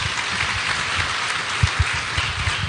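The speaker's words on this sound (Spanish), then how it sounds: "Démosle un fuerte aplauso al Señor." A church congregation applauds together, steady clapping with a few sharper claps standing out near the middle.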